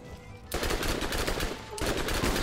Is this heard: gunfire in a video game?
yes